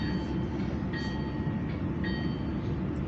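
Locomotive rumbling steadily at low speed in a train simulator game, pulling away slowly in notch one with a deep continuous drone and faint periodic clanks.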